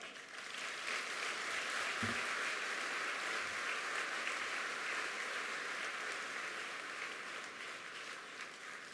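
Sustained applause fills a large hall at the opening ceremony of the Africa Climate Summit 2023, a dense, steady wash of many hands clapping for the speakers, with a couple of low thumps and no talk over it.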